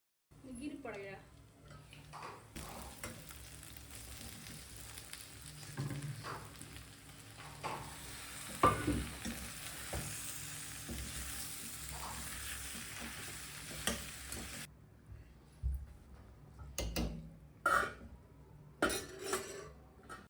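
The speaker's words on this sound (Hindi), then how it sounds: "इसको भी अच्छे से फिर धीमी आंच पे करके ना इसको भूनेंगे कि मसाला भी हमारा भून जाए" Boondi and vegetables with masala roast on a low flame while a spoon stirs and clinks against the pan, making quiet, intermittent scraping under a soft background hiss, with a voice talking at times.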